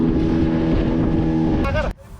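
A fishing boat engine drones loudly and steadily at sea with wind buffeting the microphone, then a short tonal whine rises before the sound drops off abruptly near the end.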